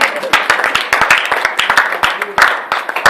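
A congregation clapping to acclaim the Lord during a church sermon, a loud, close, rhythmic patter of hands with voices mixed in.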